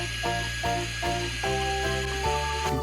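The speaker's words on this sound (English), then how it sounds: "Time to blend our chocolate milkshake." A toy blender whirs steadily while blending a pretend chocolate milkshake, a continuous buzzing motor drone with a tinny toy melody of repeating notes playing over it throughout.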